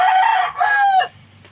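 A rooster crows loudly and close by in one long drawn-out call that breaks off near the end, on a chicken farm, with faint clucking from other chickens underneath.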